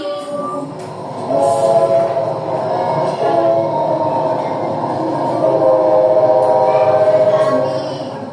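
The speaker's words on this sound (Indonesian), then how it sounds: "Kereta api yang berjalan itu juga berbunyi." A train rumbles steadily along at moderate volume, a continuous rolling drone with faint tonal squeals layered over it.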